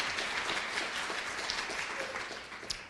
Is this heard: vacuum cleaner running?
no